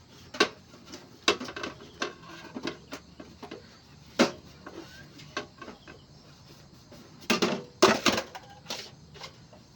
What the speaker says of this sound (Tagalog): baliktarin po natin at hugasin natin ng likod